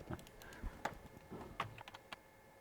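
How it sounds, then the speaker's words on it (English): Scattered keystrokes on a computer keyboard tap in an irregular rhythm, close and quiet, with a few louder clacks among softer presses. "then we hear again some more typing"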